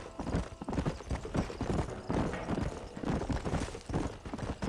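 A horse's hooves clip-clop in a steady walking rhythm in a Western-style video game, close and moderately loud with no voices.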